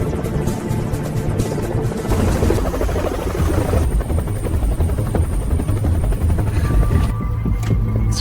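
A helicopter's rotor thumps loudly and continuously, close by with a heavy chopping rhythm and whining turbine, with no voices over it.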